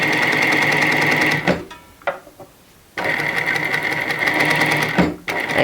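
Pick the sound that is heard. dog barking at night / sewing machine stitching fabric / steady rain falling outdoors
sewing machine stitching fabric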